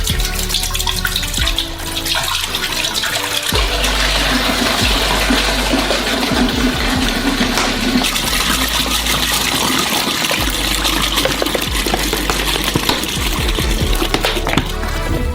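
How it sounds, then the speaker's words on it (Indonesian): Fourteen liters of milk poured from opened bottles into a large cooking pot, a steady splashing, gurgling stream running continuously and fairly loud from close by, with brief pauses between bottles. "dan tuangkan ke dalam panci besar."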